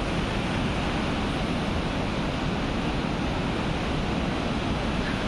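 Rushing water at Vishnuprayag in Chamoli's Niti valley, where the Alaknanda and Dhauli rivers meet, a loud, unbroken roar of torrent close by, steady and alone without voices.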